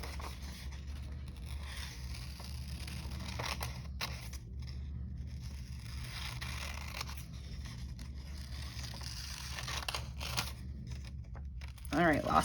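Paper hand shapes cut slowly with scissors, soft snipping and scraping running steadily over a low hum, with a louder rustle at the end.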